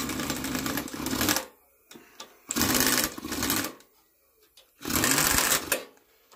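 A ratchet works the head bolts on a Westwood ride-on mower in three bursts of rapid, close clicking, separated by brief quiet gaps with small taps.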